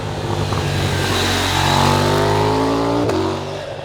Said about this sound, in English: It sounds great, there's a lovely burble.